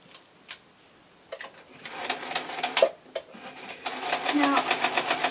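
Basic modern sewing machine stitching a long seam on a tee shirt dress, a faint mechanical ticking that builds into a steady rapid whirring run, with occasional soft clicks.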